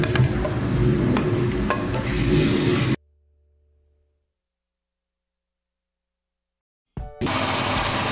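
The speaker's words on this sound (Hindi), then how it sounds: "चिकन की छोटी क्यूब्स में मैं डाल रही हूँ" Small chicken cubes fry for fried rice in a pan, a loud close sizzle with stirring scrapes that cuts to total silence for about four seconds before the sizzling resumes.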